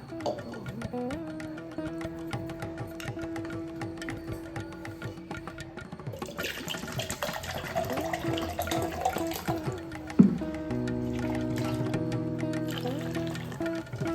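Water pours steadily into a mixer jar for several seconds, with a clatter partway through and a fuller, rising fill toward the end.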